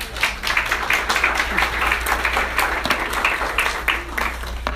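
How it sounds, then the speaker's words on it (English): An audience applauds steadily, a dense patter of many hands clapping at moderate distance, with a low hum underneath. "Round of applause for yourself."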